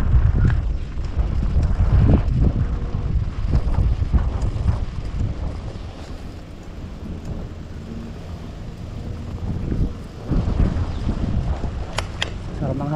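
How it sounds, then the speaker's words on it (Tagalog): Wind gusts steadily across the microphone in a Singapore park in Yishun, a loud rumbling roar that swells and eases over the whole stretch, with no clear speech on top. "Sarap ng hangin dito ah."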